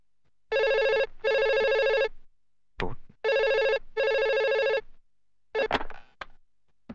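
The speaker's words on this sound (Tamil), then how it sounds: "ஏய் ஃபோன் அடிக்குது" A telephone rings loudly and nearby in repeated double bursts, two pairs of trilling rings separated by short pauses, with a few clicks and knocks in between and no talk.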